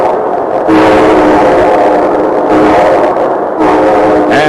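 A train sound effect on a vintage radio show: a loud, steady rumble and chugging rail clatter with sustained horn or whistle tones, punctuated by brief dips.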